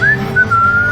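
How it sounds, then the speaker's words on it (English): A short whistled melody plays over the radio in the video game GTA San Andreas, a clear, close tone gliding between a few sustained notes over a faint musical backdrop. "Here's some tunes to whistle on a lonely night."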